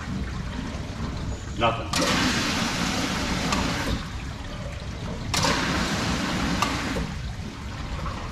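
Water rushes through a backflow preventer piping arrangement in surges, loud and close, with two sharp onsets as flow starts, under occasional voices.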